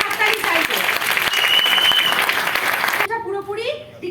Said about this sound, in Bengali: একবার জোরদার হাততালি চাইবে,